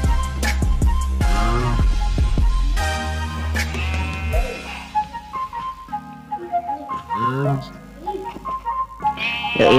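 Sheep and cows in a modded Minecraft Android game bleat and moo repeatedly in short calls, mixed with someone talking over them.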